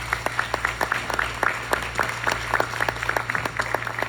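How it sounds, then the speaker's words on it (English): An audience at a boys mentoring camp claps, with distinct individual claps in a loose, uneven rhythm over a steady low hum, moderately near and not very loud. "You can clap for that."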